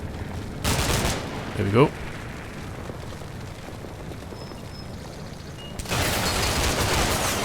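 Gunfire and explosions in Combat Mission: Cold War, with bursts of rapid firing and a rumbling blast, a whistling streak, then a renewed loud volley; someone speaks briefly amid the noise.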